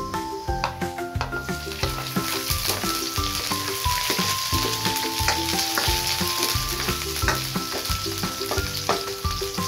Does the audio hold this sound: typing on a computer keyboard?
no